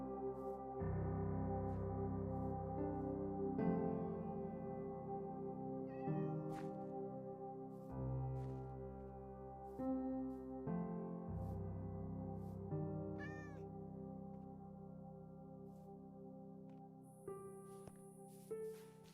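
Repeated short meows from a Minecraft cat rise above continuous in-game music, scattered across the span with a few higher, sharper calls toward the end.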